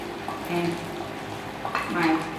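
Bean sprouts stirred in a hot wok for fried flat rice noodles with prawns, giving soft scraping and sizzling in short bursts at close range under a speaking voice.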